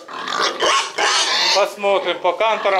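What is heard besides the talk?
sows (pigs) grunting in a pen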